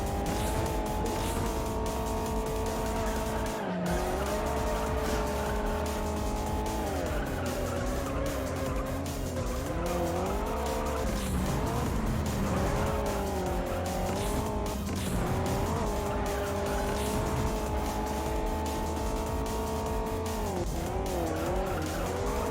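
Racing cars in the video game Juiced roar continuously with rising and falling engine revs, gear shifts and squealing tyres, loud and unbroken throughout with no talking.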